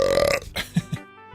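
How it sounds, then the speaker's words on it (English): A short, loud burp rises out of a voiced stretch, followed by a couple of smaller gulping belch sounds before the clip goes quiet. "noise of burping."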